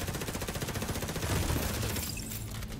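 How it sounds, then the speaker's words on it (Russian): Sustained automatic gunfire from The Division 2, a steady rapid stream of close shots that swells midway and then thins into scattered echoing reports and debris clatter. "Я стреляю в него, он не умирает."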